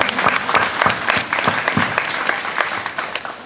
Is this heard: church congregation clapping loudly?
yes